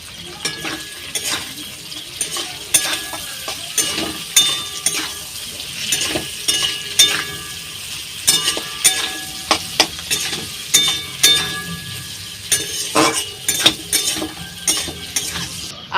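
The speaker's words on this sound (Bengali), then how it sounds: "এইবার কেটে রাখা পেঁয়াজ কুচি দিয়ে দেব, দিয়ে ভালো করে আবার ভেজে নেব।" Potatoes and chopped onion fry in a pan for a rustic fish curry, giving a continuous sizzle broken by repeated sharp scrapes and clacks of a spatula stirring, close and clear with no talk.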